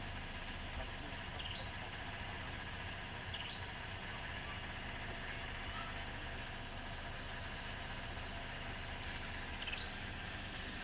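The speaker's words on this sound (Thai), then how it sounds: "อันนี้เสียงพัดลมนะครับ" A steady, low droning hum from an electric fan runs evenly throughout, constant and unchanging, with faint background noise.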